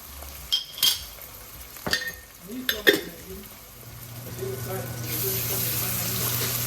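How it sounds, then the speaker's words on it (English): A spoon stirs garlic ginger paste into a pot of lentil coconut soup, giving a few quick scraping knocks, then a steady sizzling hiss rises and continues alone. "You stir after adding your garlic ginger paste."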